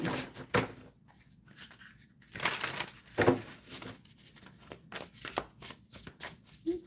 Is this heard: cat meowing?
no